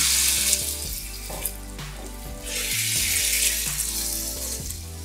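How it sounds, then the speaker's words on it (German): A pan sizzles loudly in surges as sliced turkey strips hit hot oil, with faint clinks and a low steady hum underneath. "Und gebe dann mein Putengeschnetzeltes rein."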